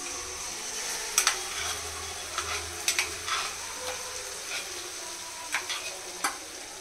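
Ground spice paste frying in hot oil for brinjal curry, a steady close sizzle with occasional sharp scrapes and clinks of a spoon stirring the pan, no talking.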